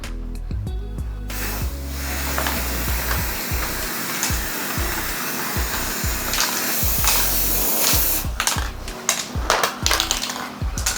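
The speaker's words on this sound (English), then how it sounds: "so we're gonna spray" An aerosol can of professional spray paint hisses steadily onto a mirror frame being turned from gold to silver, with the can's mixing ball rattling and sharp knocks and handling clatter at the start and end.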